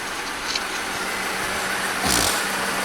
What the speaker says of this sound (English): we got a misfire on cylinder number 4